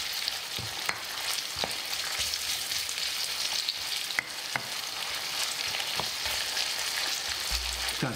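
Chopped onion fries in a pan with a steady, dense sizzle that runs throughout, broken by a few sharp clicks and taps of utensils, and a low rumble creeps in near the end.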